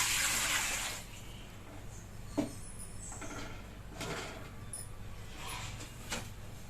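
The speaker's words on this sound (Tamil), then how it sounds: "ஒரு சொம்பு தண்ணி விட்டுக்கிறேன்." A pot of water pours into an idli steamer in a kitchen, a brief gushing splash at the start followed by quieter clinks and handling of vessels.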